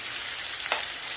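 Liver fries in hot oil with a clove of garlic, a short burst of steady close sizzling with one small louder crackle partway through.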